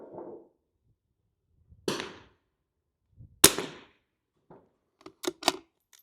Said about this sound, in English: we're going to take this final shot at 3